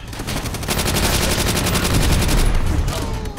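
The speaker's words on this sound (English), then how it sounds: "Good old Tommy gun." Rapid Tommy gun bursts in a Call of Duty World at War battle, a loud, dense rattle of automatic fire running almost nonstop and close up.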